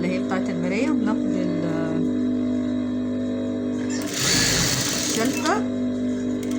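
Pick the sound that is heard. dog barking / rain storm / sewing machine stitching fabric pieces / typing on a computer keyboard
sewing machine stitching fabric pieces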